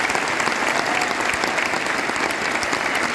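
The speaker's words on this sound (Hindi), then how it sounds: "एक बार जोरदार तालियां मेरे पेरेंट्स के लिए" A seminar audience applauds loudly and steadily, a dense continuous wash of many clapping hands that fills the whole stretch without pause.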